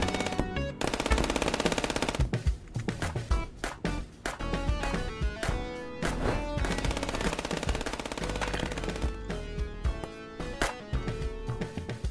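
Loud, sustained rapid-fire gunfire from the shooter game FPS Chess fills the whole stretch as continuous machine-gun bursts with brief gaps, dense and close, with no talk.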